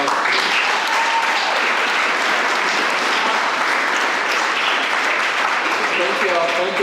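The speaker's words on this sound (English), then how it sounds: "Can we get a round of applause?" A real estate investing panel audience breaks into a sustained round of applause, loud and dense, with voices audible through the clapping toward the end.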